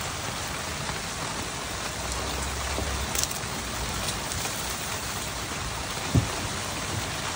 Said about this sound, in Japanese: ちょっと外は雨がすごいです今。 めちゃめちゃ雨降ってる今。